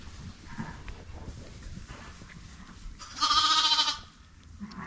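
A sheep on a lambing farm bleats once in a loud, wavering cry near the end, over a quieter background of rustling and shuffling in the barn.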